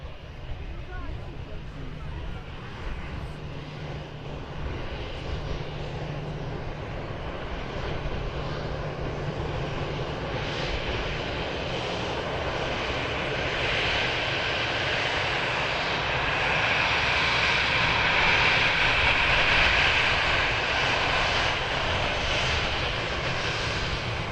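A steady, loud roar from an Airbus A320's engines as it vacates the runway at Manchester Airport, continuous throughout and swelling slightly toward the end. The sound is heard from a distance, with no voice standing out over it.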